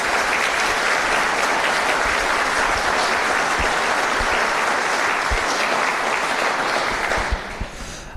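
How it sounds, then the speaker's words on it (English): Sustained applause from an audience at a community merit awards ceremony, dense and even for several seconds before fading out at the end. "giving them a huge round of applause for leading this effort"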